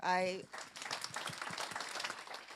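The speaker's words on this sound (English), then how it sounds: "let's give a round of applause again to my colleagues" An audience at an info day applauds the speakers. A voice briefly opens, then steady, fairly soft clapping from a room full of people carries on for a couple of seconds.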